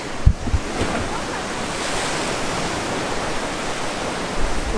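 Ocean waves washing onto the red sand beach on Maui's Road to Hana, a steady broadband roar of surf heard from a clifftop trail, with a few brief bumps near the start.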